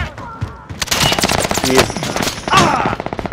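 Video game gunfire in a firefight, loud bursts of rapid automatic shots with heavier blasts, coming in waves and trailing into a sharp rhythmic rattle, while a person briefly speaks.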